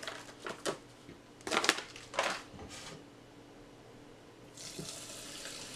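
Water pours into a rice cooker over boxed rice mix, several short splashing bursts followed by a softer steady hiss of flowing water, faint and close.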